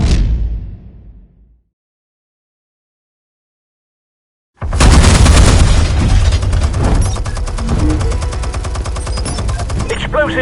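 Explosives fire in the Batman Telltale Series video game: a booming blast fades out into silence, then a loud, sustained roar of heavy detonations and crackling debris bursts in and continues to the end.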